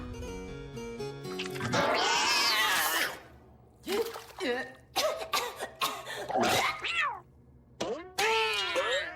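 Several high, wavering meows in quick succession, loud and close, following a burst of rushing noise and music-like tones at the start.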